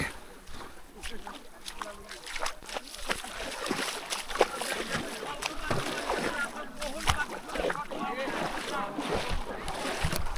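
A small boat is pushed through the water on a Sundarbans trip near Dublar Char, with ongoing splashing and sloshing close by and voices talking throughout.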